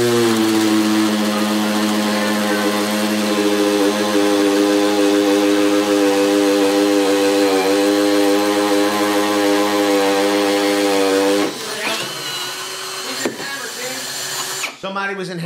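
RIDGID and Makita hammer drills boring a one-inch hole at speed one, a loud sustained motor whine with strong harmonic tone for about eleven seconds before it cuts off, followed by clunks and handling noises.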